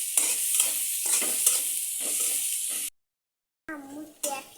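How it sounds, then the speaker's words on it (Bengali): Onion and garlic frying in oil with salt for a chicken dish, a loud close sizzle broken by rhythmic stirring scrapes, then a sudden silence before the sizzle returns with a short spoken voice over it. "প্রথমে পেঁয়াজ, রসুন, তেল, লবণ দিয়ে ভেজে নিতে আছে।"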